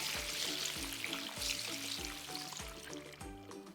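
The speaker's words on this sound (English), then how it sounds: "Then we're going to finish off by adding the water in" Water pours steadily into a craft paper flower box with a plastic bubble at the bottom, a close continuous trickling fill that runs alone for a few seconds.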